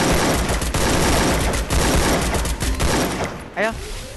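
Rapid bursts of gunfire in the mobile battle game Garena Free Fire, loud and dense volleys crackling one after another, with players talking over the shooting.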